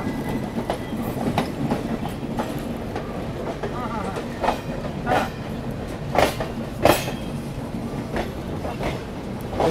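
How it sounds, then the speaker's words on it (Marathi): A passenger train rolls by on the railway while crossing the Mahatma Express, its steady rumble and clattering wheels filling the scene with a few sharper knocks; no one speaks. "महात्मा एक्सप्रेस सोबत आपली क्रॉसिंग."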